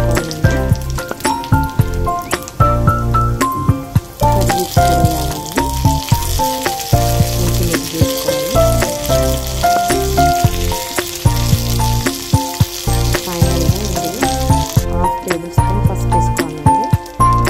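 Small garlic pieces sizzle and crackle steadily in hot oil in a pan while being stirred, a loud continuous fry with occasional clinks, with a voice speaking over it.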